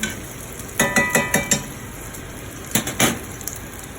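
Bacon crisping in a pan beside cod and Brussels sprouts, a quick run of five sharp scraping stirs followed by a couple more later, over a faint steady sizzle, close by.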